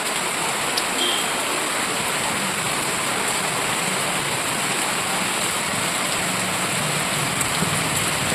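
Heavy rain pours down steadily and loudly as a continuous dense hiss, with no pauses or voices, during outdoor work on a Gajalakshmi idol.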